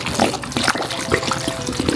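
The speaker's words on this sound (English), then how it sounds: "Just pour the water in." Water is poured into a regular pot with ginger for a homemade drink, a short steady splashing and gurgling stream up close.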